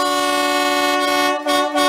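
Dual marine air horns fitted to a Fiat Ducato van, one trumpet facing the grille, blare a loud, steady chord for nearly two seconds, with a brief dip near the end before resuming.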